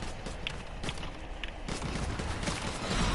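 Rapid gunfire in Fortnite, repeated sharp shots in quick bursts over a steady, loud game background.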